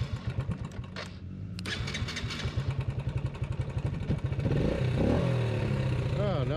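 A motorcycle engine cranks with a rapid stuttering chug, then catches and settles into a steady idle that swells louder near the end, heard close up.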